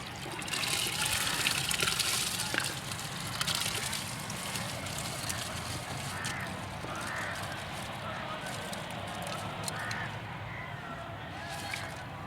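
Raw rice poured into a pot of mutton stock for Desi mutton yakhni pulao, a steady watery rush and trickle running close by for several seconds, with faint kitchen clatter.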